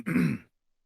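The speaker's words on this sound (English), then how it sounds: "will stand and kind of clear his throat and say" A single short throat clearing, close and fairly soft, lasting under half a second before silence.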